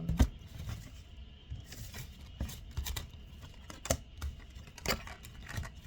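Tarot cards being shuffled loosely and randomly: soft irregular papery flicks and taps, quiet and close, with no talking.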